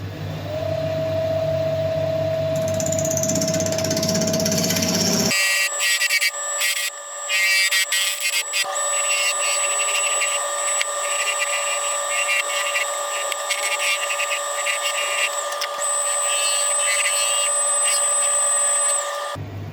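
A woodturning lathe cuts a decorative bead into a spinning aluminium bowl, giving steady whining tones and a harsh scraping, screeching cut that stays loud and close throughout.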